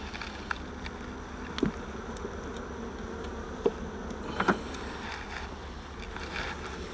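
Honey bees buzz steadily around swarm trap frames holding starter strips, a soft close drone with a few brief louder passes and clicks and no talk.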